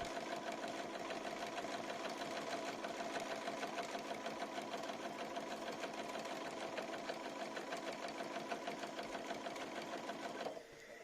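A SuiSei sewing machine quilting with an A9S binding attachment runs in a fast, steady mechanical chatter, close and continuous, then stops abruptly near the end.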